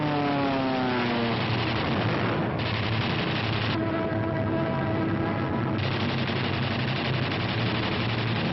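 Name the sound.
WWII fighter and bomber aircraft engines, P-47s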